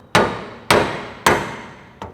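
A soft nylon hammer taps a stub axle off the front differential of a Nissan Patrol, four sharp close knocks at an even pace, the last one lighter.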